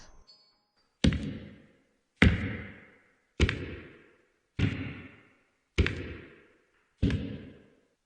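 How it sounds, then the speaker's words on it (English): Six loud, heavy thuds fall one by one at a slow, steady pace of about one per second, each ringing out briefly on a hard platform, close by and with silence around them. "the sound of heavy footsteps coming from the platform broke the silence"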